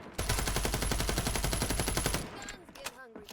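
Sustained automatic suppressing gunfire in the shooter game FragPunk: a rapid, loud, steady burst of shots lasting about two seconds, then stopping abruptly into quieter game effects.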